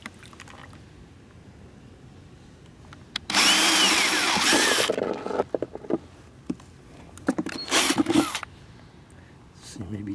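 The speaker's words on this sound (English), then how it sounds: "just drill some holes" A power drill whirs in a short burst, then again in a few briefer bursts, over a quiet background with faint voices.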